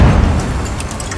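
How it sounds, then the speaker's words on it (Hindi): A shoulder-fired rocket launcher's blast lands as a heavy, loud boom at the very start, then a broad rumbling roar fades slowly through the short stretch. "उसने जैसे ही रॉकेट दागा, जबरदस्त धमाका हुआ, धुआं उठा"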